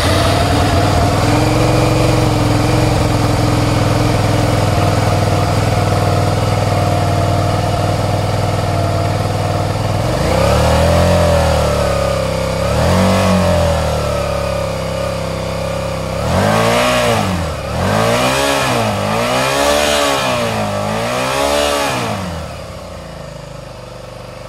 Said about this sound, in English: So power on, engine on.